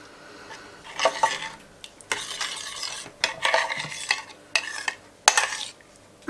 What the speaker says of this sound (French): je mélange, je fais dissoudre l'oignon